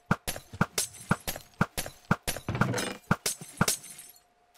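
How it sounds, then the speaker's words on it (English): Minecraft splash potions fly out of an auto dispenser and shatter in a rapid, regular series of sharp glassy breaks. There are roughly a dozen crisp smashes at moderate volume, with no talk. "potions being ejected from this auto dispenser into the water here."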